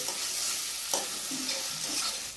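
Chicken sizzles in hot oil with dry chilli, ginger, garlic and cumin paste while a spoon stirs and scrapes the pan in a village kitchen. The frying hiss stays steady and close, broken by a few sharp scraping strokes, with no voices.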